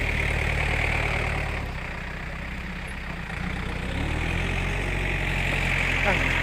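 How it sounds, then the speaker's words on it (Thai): A ten-wheel dump truck engine idles with a deep steady rumble, close by, dipping slightly midway before settling back to a constant drone. "เป็นรถสิบล้อครับ มาขนดิน"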